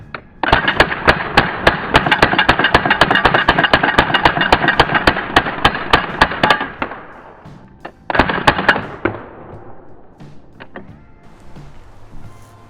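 A Crosman DPMS Panther Arms SBR air rifle fires a long rapid burst of loud, evenly spaced shots, stops, then fires a shorter burst, each shot a sharp crack close by with no talking.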